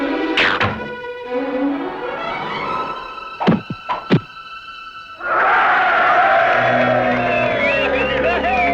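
Arrows loosed by archers at a target land with sharp thunks, a few quick impacts under a shouted command, before a crowd breaks into loud cheering.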